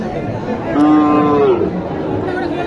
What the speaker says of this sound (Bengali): এটা একটা জার্সি গরু, দেখছেন?